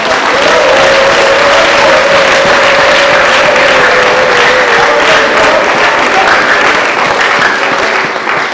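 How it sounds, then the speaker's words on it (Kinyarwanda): A church congregation claps together in sustained, dense applause at a Sunday worship service, loud and steady throughout, with a faint voice or tone lingering underneath. "Turagushimiye tukomeye amashyi kuri Imana."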